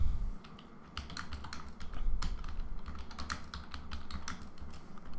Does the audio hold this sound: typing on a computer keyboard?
yes